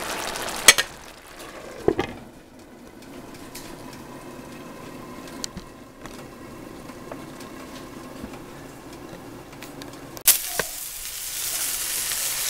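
Two steaks frying in a pan give a steady, moderate sizzle that runs under a few sharp clinks of a utensil against the pan.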